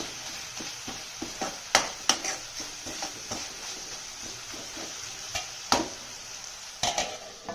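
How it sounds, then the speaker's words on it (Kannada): Onions and tomatoes fry with a soft continuous sizzle in a pan for a ridge gourd pappu, broken by scattered clacks of a spoon stirring against the pan. "ಅವಾಗವಾಗ ಮುಚ್ಚಳ ತೆಗೆದ್ಬಿಟ್ಟು ಚೆನ್ನಾಗಿ ಫ್ರೈ ಆಡಿಸ್ತಾ ಇರಬೇಕು"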